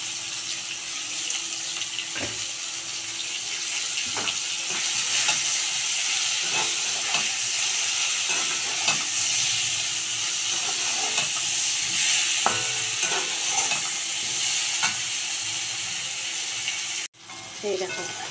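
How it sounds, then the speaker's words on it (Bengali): Onions fry in hot oil for a banana flower ghonto, a dense continuous sizzle with scattered crackles and stirring scrapes, close and fairly loud, cutting off briefly near the end. "এই দেখো, পেঁয়াজটা কত সুন্দর লাল করে ভাজা হয়ে গেল।"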